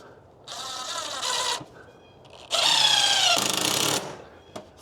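A power drill drives screws with heads painted to match into a Kevlar hurricane screen, giving two whining bursts of about a second and a half each whose pitch climbs as the screw seats, separated by a short quiet pause.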